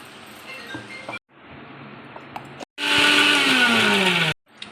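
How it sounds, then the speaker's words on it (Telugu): A kitchen mixer grinder whirs through green chillies in short bursts: a quieter run, a pause, then a loud high whining spin that slows in pitch before it cuts off, with a few clinks between the bursts. "ఇప్పుడు పచ్చిమిర్చి కూడా మిక్సీ వేసేసుకున్నాము"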